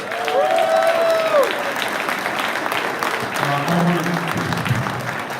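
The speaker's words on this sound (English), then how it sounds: "So why don't you give yourself a round of applause, man?" Audience applause at a kayak fishing national championship awards ceremony, a sustained round of clapping from the crowd with voices and cheers mixed in throughout.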